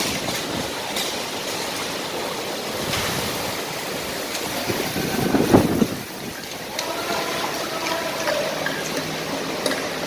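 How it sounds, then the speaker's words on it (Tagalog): Strong wind roars during a sandstorm with rain in the UAE, a continuous broadband rush with gusty surges and a brief louder burst midway; a voice is faintly heard. "Kaya lakas ng hangin,"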